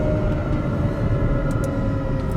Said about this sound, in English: this is their Formula One version of the engine sound